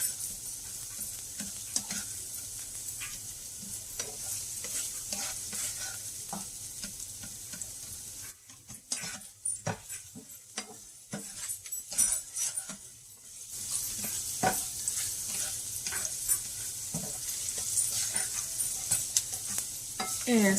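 Food sizzles steadily in a hot pan while a utensil stirs and scrapes through it, with the frying hiss dropping briefly in the middle before resuming, close and moderately quiet.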